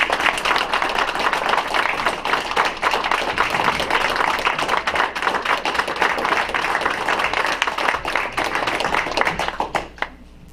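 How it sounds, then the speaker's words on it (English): Applause from the audience at a Taylorville city council meeting honoring a musical's cast, steady dense clapping for about ten seconds before fading out at the end. "Let's give them a round of applause."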